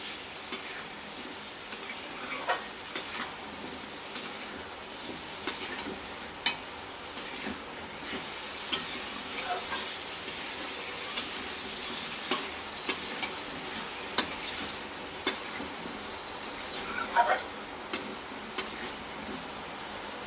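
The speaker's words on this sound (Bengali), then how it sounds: "আলুটা দিয়ে ভালো করে নাড়াচাড়া করে নেবো" Potatoes stirred into cooked, oil-releasing spice masala for a Bengali Mughlai dish, with a soft steady fry sizzle under regular sharp ladle scrapes and clinks against the pan, close and moderately quiet.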